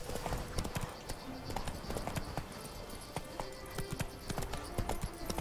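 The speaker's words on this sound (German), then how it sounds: "Na komm, Plötze, einmal außen rum. Schön den Weg entlang reiten. Wir können mal ein wenig galoppieren," Horse hooves clopping in a steady rhythm along a path in the video game The Witcher 3: Wild Hunt, Blood and Wine, moderately loud with ambient game sound underneath.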